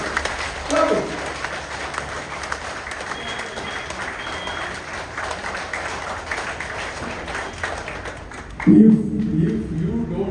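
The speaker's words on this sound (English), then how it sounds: "clap it, clap it, clap it" An audience at an LIC Kottayam Division gathering claps hands together on cue: a rough, sustained patter of clapping for about eight seconds, after which a voice speaks loudly near the end.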